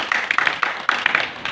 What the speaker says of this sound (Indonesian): Tepuk tangan buat Pak Robinson.